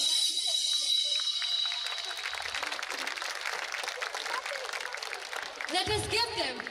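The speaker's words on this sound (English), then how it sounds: "Let us give them a resounding round of applause." An audience at a Carmel School event breaks into sustained applause, a dense wash of clapping that carries steadily throughout, with a voice briefly audible near the end.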